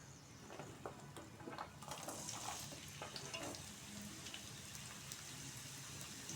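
Crushed garlic cloves and a chopped medium onion sizzling in a pan for dill leaf curry, a soft steady crackle with occasional louder pops and stirring scrapes, no talking.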